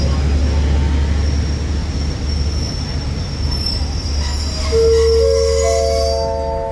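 Thai special express train 37/45 stands at Ban Pong station, its loud, steady rumble joined near the end by sustained high wheel squeals.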